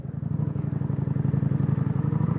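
A Kawasaki Vulcan 900 cruiser rumbles along at a steady pace, its deep, smooth, even exhaust pulse heard close and continuous without any voices.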